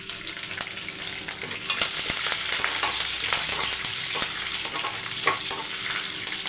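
Ginger, curry leaves and green chillies frying in hot oil, a dense continuous crackling sizzle that grows louder partway through, with sharp spatters and light stirring clicks and no voices.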